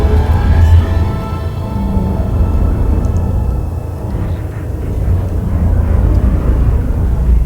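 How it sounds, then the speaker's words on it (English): Cobra Mk V spaceship in the Elite Dangerous video game settles onto a docking pad with a loud, continuous low engine rumble and roar, fairly even with slight swells, no talk. "Landing gear deployed."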